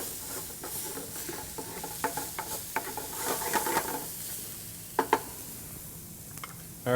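Garlic, onion and chopped Italian parsley sofrito frying in a paella pan, with a steady low sizzle under repeated stirring scrapes and a few sharper utensil clicks near the end.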